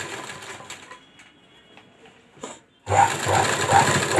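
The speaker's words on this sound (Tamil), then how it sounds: "இப்போது இதில் வந்து இப்படி நெட்டாக தையல் போட்டுடலாம்." A sewing machine runs a straight stitch along a blouse, with faint mechanical ticking at first, a near-silent pause, then a loud, steady whirring run of the needle for the last second and a half.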